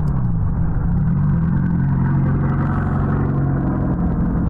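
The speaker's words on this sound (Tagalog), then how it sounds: "May naririnig ako somewhere na sasakyan." Continuous low rumble of a car engine running close by in the video game Dead Signal, steady and droning with a slight shift in pitch, no talking.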